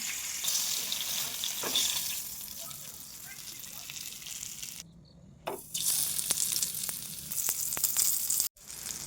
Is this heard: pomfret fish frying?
yes